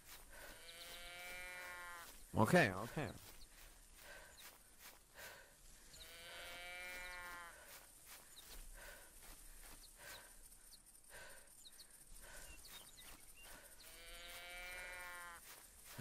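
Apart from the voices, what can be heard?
goat bleating in the video game TheHunter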